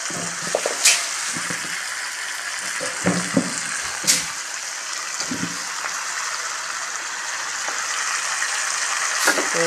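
Fish curry simmering in a pan after broth is poured in, giving a steady close bubbling sizzle with a few soft clinks of stirring throughout.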